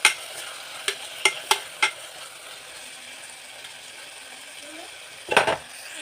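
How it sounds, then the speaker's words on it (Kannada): Tomatoes frying in a pan while being stirred for an avarekalu huli curry, with a soft sizzle bed and several sharp clinks of the spoon against the pan, then a louder scrape near the end. "ಇವಾಗ ಟಮಾಟೆ ಹಣ್ಣು ಹಾಕೊತಾ ಇದ್ದೀನಿ. ಸ್ವಲ್ಪ ಫ್ರೈ ಆಗಲಿ."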